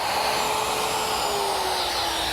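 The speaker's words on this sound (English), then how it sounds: "Now I'll just complete it with my jigsaw." A jigsaw cuts a notch in a cabinet side panel for a kitchen pantry, a loud close continuous buzzing whine that fills the short stretch alone with no speech.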